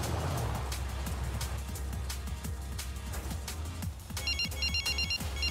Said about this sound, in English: My phone's ringing! Oh, I got an accolade.